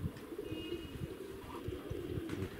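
Pigeons coo in low, repeated throaty pulses close by, with faint background noise and no talking.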